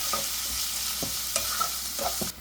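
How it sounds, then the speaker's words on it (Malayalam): Salted onions are stirred as they fry soft in a pan. A steady close sizzle carries a few distinct spoon scrapes and taps, then cuts off abruptly at the end. "ഒന്ന് ഇളക്കി കൊടുക്കട്ടെ ഏത് സവാള ഒന്ന് സോഫ്റ്റായിട്ട് വന്നോട്ടെ"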